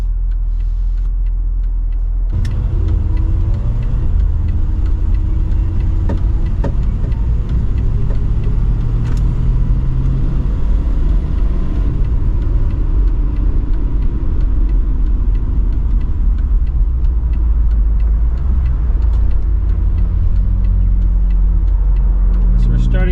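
A 1970 Mercedes-Benz 280SE 3.5 cabriolet engine rumbling loudly from inside the cabin as it accelerates through the gears from first on a downhill on-ramp, with road noise throughout and a voice speaking over it.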